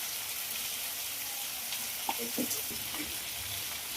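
Snake gourd with turmeric, onion and crushed garlic sizzling in a pan: a low, even hiss of frying with a few soft clinks and stirring sounds midway, fairly quiet and steady.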